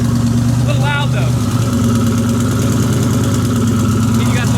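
Twin-turbo Coyote V8 in a Mustang built for street use, idling loud and close with a steady low, lumpy rumble throughout, a brief higher whine near the start and faint voices under it.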